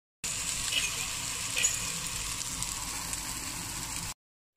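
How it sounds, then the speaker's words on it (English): A steady bubbling hiss of water boiling potatoes in a pot fills the clip, constant and close, with no voices. "Time for dinner, boiling potatoes."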